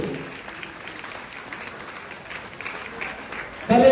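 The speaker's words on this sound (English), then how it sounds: "congratulations, give big claps for Disha Gaud and family" An audience at a ceremony applauds a family, a continuous wash of clapping from a crowd at moderate, even volume, with a brief voice at the start and a louder vocal sound at the very end.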